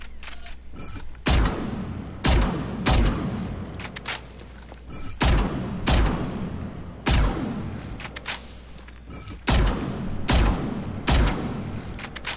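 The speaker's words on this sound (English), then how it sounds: "we want to try out the sniper rifle" Sniper rifle shots in the Mass Effect 3 video game: loud, sharp single blasts about every second or two, each followed by a decaying boom and mechanical reload clatter, with no talking.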